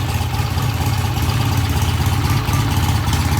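A vintage British motorcycle engine idles at about 1100 RPM in a workshop, a steady low rumbling putter that stays even and close throughout with no talk.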